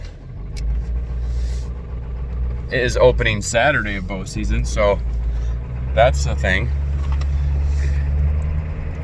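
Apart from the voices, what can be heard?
pickup truck driving with four-wheeler in back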